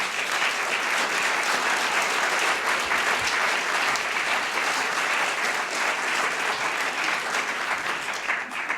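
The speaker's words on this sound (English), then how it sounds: "Please, a warm applause for all the people that made IMPAKT Festival 2019 possible." Festival audience applauding at an arts and media festival opening, dense, even clapping from a large crowd sustained throughout without pause.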